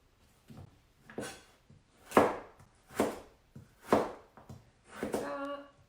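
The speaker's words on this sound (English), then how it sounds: "Then I lay the planks down and just chop those, julienne them into nice little sticks." A knife chops thin mango planks into julienne sticks on a cutting board, giving about eight crisp, close thunks in an uneven rhythm, some soft and some sharp, with quiet pauses between strokes.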